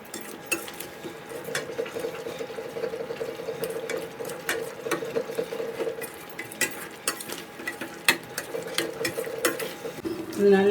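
Spiced masala with salt, turmeric, chilli, coriander and mutton masala sautéing in a pan for mint mutton chukka, a continuous sizzle with frequent clinks and scrapes of a spoon against the pan.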